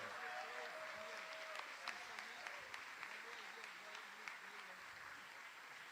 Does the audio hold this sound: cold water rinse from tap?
no